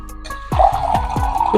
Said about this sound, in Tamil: இல்லங்க இன்னொரு கிளாஸ் ஊத்துங்க